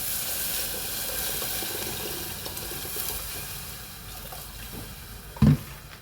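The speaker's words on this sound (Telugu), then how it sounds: "చూడండి, సగం వరకు నీళ్ళు వేసాను నేను." Water poured into a pot of biryani masala, a steady close splashing stream that fades toward the end, followed by a short knock.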